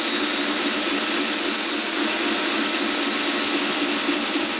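Belt grinder running steadily through a rough hollow grind on a heat-treated knife blade under light pressure, a continuous loud broadband whir with no pauses and no talking.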